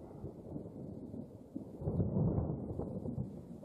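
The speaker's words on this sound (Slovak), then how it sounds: "Teraz budete počuť ako hrmavicu dobrú." Thunder rolls low and continuous through a rainy thunderstorm on the way to a cemetery in Slovakia, a deep rumble that swells in the middle and lingers without any voices.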